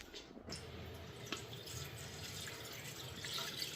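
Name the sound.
milk being poured into a pot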